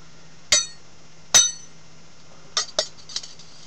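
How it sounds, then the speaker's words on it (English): Metal magic linking rings clank together in sharp, bright clinks, two single strikes followed by a quicker cluster of lighter clinks, close and alone. "has a clanking sound. They call them linking rings."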